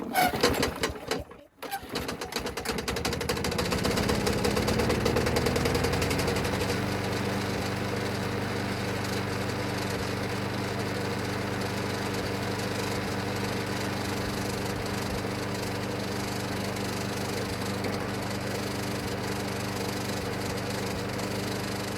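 A Craftsman lawn mower engine sputters briefly at first, then settles into a steady, even hum that runs on alone for the rest of the clip.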